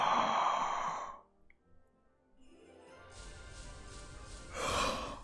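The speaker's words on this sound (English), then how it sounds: "it actually turned into a yawn" A person gives a long, audible yawn. A breathy stretched exhale is followed by a quiet pause, then another drawn-out breathy yawn that swells toward the end, close to the listener.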